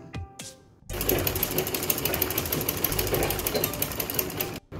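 After a short pause, a sewing machine runs steadily and closely as it stitches around a blouse neckline, a continuous rapid mechanical chatter that stops abruptly at the end.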